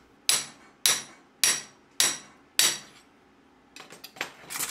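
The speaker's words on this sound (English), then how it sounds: "using a handheld swinging press, force the nut into the hole" Five sharp metallic clanks ring out at an even pace as a handheld swinging press forces a nut into a hole in a metal workpiece, each strike decaying quickly. Softer scraping and rattling follows near the end.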